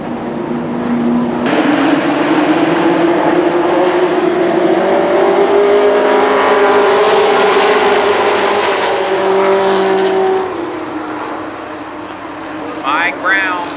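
Race cars roar around the Columbus Motor Speedway oval in a Labor Day championship event, a loud, rising and falling engine drone as the pack passes, with a commentator talking over it.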